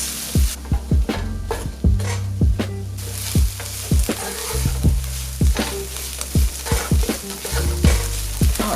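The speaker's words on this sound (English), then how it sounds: "let this cook down and get nice and caramelized and delicious" Yellow onion and three shallots caramelizing in a hot pan: a steady sizzle under regular, sharp knocks and scrapes of a spoon stirring against the pan, close and fairly loud.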